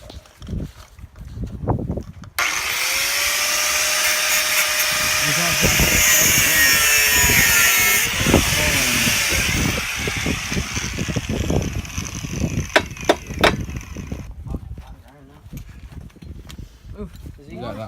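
A power tool grinds and cuts through the exhaust pipe of a Yamaha TTR230 dirt bike, a sustained high whine lasting several seconds with shifting pitch, while people talk nearby and laugh.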